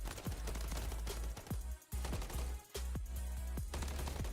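Rapid bursts of Call of Duty gunfire in a Zombies or ranked match crackle in quick repeated volleys, with several short pauses and a steady low rumble between shots.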